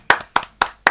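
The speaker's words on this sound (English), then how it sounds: "I heard a feeble clap in the background there from Heathers" Four slow, separate claps from a single person in the background of a comedy radio show, evenly spaced, sharp and isolated, with nothing else sounding between them.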